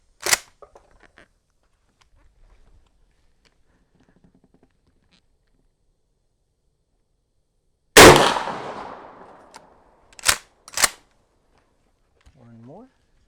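A Mossberg shotgun with bead sights fires slugs outdoors: one very loud, close blast with a trailing echo. A sharp crack comes near the start, and two quick mechanical clacks follow the main shot.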